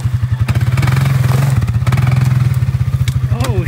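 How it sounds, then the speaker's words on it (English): A four-wheeler ATV engine driving into a pond: close, loud, rapid rhythmic engine pulses with some clatter, and voices briefly heard near the end. "I bet I can drive through this whole thing on the four-wheeler"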